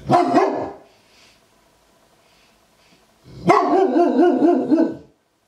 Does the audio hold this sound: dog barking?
yes